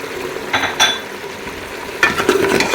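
Mutton paya masala with yogurt and tomato being roasted in a pan, with a steady sizzle underneath and several clinks and scrapes of a spoon stirring against the metal, close and fairly loud.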